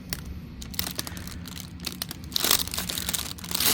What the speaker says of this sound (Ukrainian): Я думаю, цю фольгу можна ще буде додати на кульки поставити.